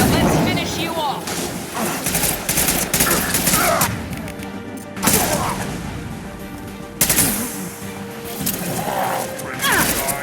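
Heavy bursts of gunfire from the video game Mass Effect 2 rattle off in repeated volleys with sharp impacts, dense and loud throughout, with a voice talking faintly underneath.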